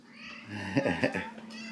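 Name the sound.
cat meowing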